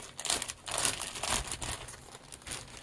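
A taped-shut plastic bag being pulled open, giving close, soft, irregular crinkling and rustling in short bursts, with no talk.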